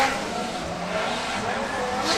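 Drift car at the British Drift Championships, Teesside round, engine roaring steadily with tyre squeal as it runs along a wall, continuous and fairly loud, with a commentator talking over it.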